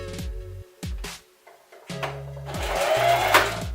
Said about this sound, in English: Is this what my sewing machine sounds like on like a good fucking table?